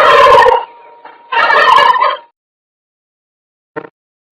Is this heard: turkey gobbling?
yes